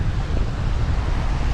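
Rough surf at a local beach where jet skis are being pulled out of the water, heard as a continuous heavy roar of breaking waves mixed with buffeting wind on the microphone, with no distinct individual breakers.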